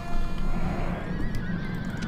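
Horse neighing in the Invasio Barbarorum video game, a loud whinny in the middle of a battle scene with horse archers, set over steady background game noise and with no talk.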